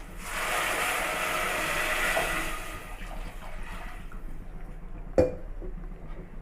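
Two cups of water pour steadily into a cooking pot with a broad splashing rush that fades after a few seconds, followed by a sharp knock near the end.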